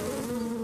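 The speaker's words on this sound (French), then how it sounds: "Les abeilles veulent quitter la ruche." Honeybees buzz steadily at their hive, a close, continuous droning hum with a clear pitched tone throughout and no voices.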